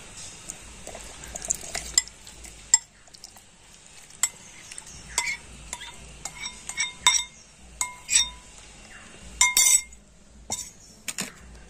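Milk and carrot pieces going into a mixer grinder jar in a home kitchen, heard as scattered clinks and taps of a steel or glass jar and utensils, fairly faint and close, with quiet pauses between.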